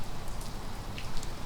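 Steady rain falls outdoors as a continuous, even patter with scattered brighter drop hits, moderately quiet throughout and with no voices.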